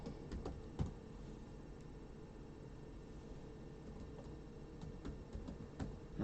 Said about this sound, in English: I'm typing it in there